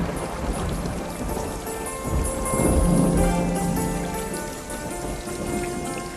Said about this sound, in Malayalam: താമരക്കുളത്തിൽ മഴ പെയ്യുന്നുണ്ട്.